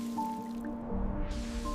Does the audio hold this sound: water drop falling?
yes